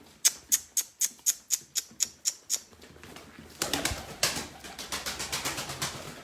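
Pet pigeons, male and female, with a quick regular run of about a dozen sharp wing claps or flaps, followed by a denser, noisier flurry of fluttering and soft calls, close and fairly loud.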